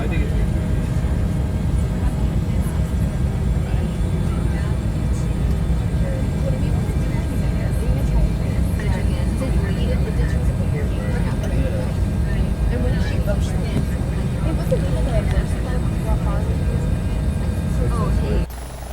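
Bell 412 helicopter lifting off in the X-Plane 11 flight simulator, a steady loud rotor and turbine drone that holds evenly throughout, with someone talking intermittently over it.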